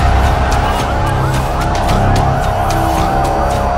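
Wailing ambulance sirens rise and fall over a busy street in Lebanon, with traffic noise and a steady hum underneath, loud and continuous.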